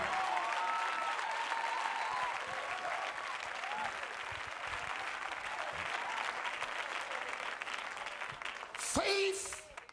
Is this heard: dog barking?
no